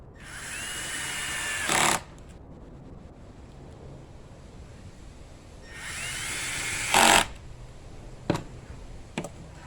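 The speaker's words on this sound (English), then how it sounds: "So I'm just using a power screwdriver that is going to drive it in, but it's not going to put it through the material." Power screwdriver driving screws into a wooden cleat in a garage, two sustained whirring bursts each ending in a sharp loud snap, followed by a few short clicks, close and without talk.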